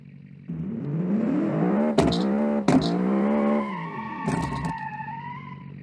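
In a driving video game, a rear-engined V8 hatchback slows and spins around: a falling engine whine with several sharp bursts of tire squeal and skidding, and no talk.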